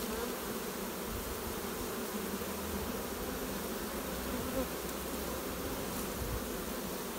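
A swarm of honeybees being coaxed toward beeswax for moving into a new hive hums as a dense, continuous buzz, close and steady throughout with no talking.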